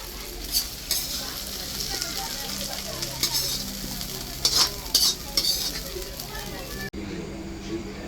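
Water lily stems (shapla bhaji) stir-fried in a pan give off a steady close sizzle, with a spatula scraping and stirring at intervals and a voice talking over it. The sound cuts off abruptly near the end.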